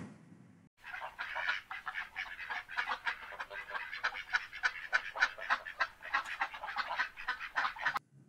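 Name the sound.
ducks quacking and honking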